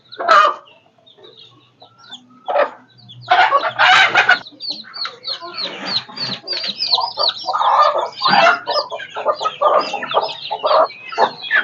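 Loud, busy clucking and squawking from several native country chickens close by on a small poultry farm, overlapping calls in irregular bursts with only short pauses.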